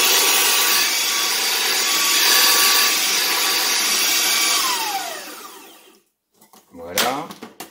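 A food processor whirs loudly for several seconds, blending almond powder for macarons with a gritty grinding roar, then cuts off abruptly, followed by a few clattering knocks.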